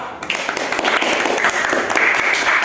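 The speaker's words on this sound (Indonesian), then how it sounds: "Tepuk tangan dulu si Deborah." A school class gives a short burst of applause in a classroom for a student's question, dense close clapping from many hands lasting a few seconds.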